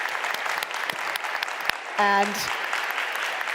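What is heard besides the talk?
audience applause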